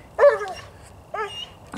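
A dog during weight pull harness training gives two short bark-like vocal bursts about a second apart, close and moderately loud, with quiet gaps between and a faint brief noise at the end.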